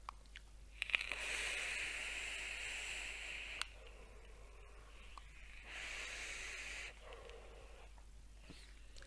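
Vapor drawn through a wide-open airflow Vandy Vape Govad atomizer at about 60 watts gives a steady breathy hiss, two long pulls of several seconds each with a quieter pause between, close and fairly soft.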